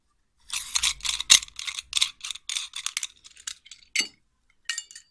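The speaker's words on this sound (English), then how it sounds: "And this screw, we need to take off this screw." Small metal clicks and ratcheting chinks come close up as a screw is worked loose from a candelabra accessory, quick bursts of clicking with short pauses between.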